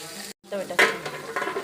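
Dosakaya pachadi ingredients frying in a pan on a stove, with a soft steady sizzle broken by a brief gap and a few stirring scrapes, close and moderately loud, with no talk.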